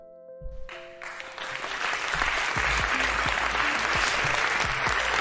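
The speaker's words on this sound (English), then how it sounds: "Let's give that a clap." Applause from a crowd builds quickly and holds steady, a dense wash of clapping with a few faint voices underneath, at a TrackMania esports event.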